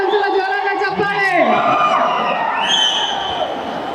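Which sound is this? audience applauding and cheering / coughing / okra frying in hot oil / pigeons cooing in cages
audience applauding and cheering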